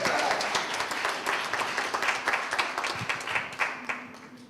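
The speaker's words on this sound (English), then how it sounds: "So let me clap it up one more time for Patty." An audience claps for chef Patty Zarate at a book event, a fairly close round of applause that thins toward individual claps as it fades, with some voices faintly underneath.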